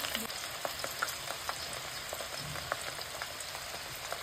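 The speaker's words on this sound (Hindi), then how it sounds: "ये अदरक और लहसुन डालेंगे सबसे पहले इसमें, आराम से डालेंगे, पट्टी से चला लेंगे इसे" Ginger and garlic fry in hot oil for a dhaba-style mixed vegetable pickle, making a quiet, continuous sizzle broken by light, regular scrapes of a spatula stirring the pan.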